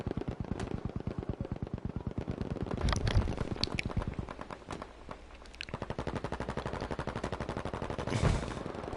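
Rapid automatic gunfire in a competitive team shooter video game, long sustained bursts of machine-gun fire with a few separate shots layered on top, loud and close throughout.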